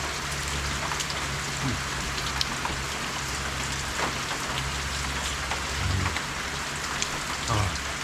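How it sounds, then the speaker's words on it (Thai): Heavy rain pours down steadily, a dense continuous hiss of drops hitting surfaces, with no voices. "ตอนแรกกะจะกินกลางฝนแต่มันตกหนักเกิน"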